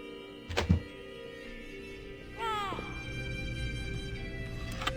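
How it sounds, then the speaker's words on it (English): A door's deadbolt is locked in the horror game The Vestigial Princess, giving a short sharp metallic clunk early on and then a grinding mechanical slide over a quiet eerie ambient hum. "Lock with a deadbolt."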